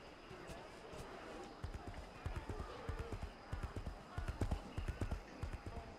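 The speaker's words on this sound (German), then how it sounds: "Bewegen wir uns auf dem Pferd." Horse hooves clip-clopping in a steady trotting rhythm while riding in the game Age of Wulin, faint and repeated throughout, with a voice talking over them.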